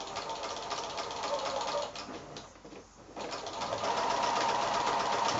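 A sewing machine stitches along a drawn line on a machine-sewn applique for quilting, a steady close whirring run that briefly slows and dips near the middle before resuming at full pace.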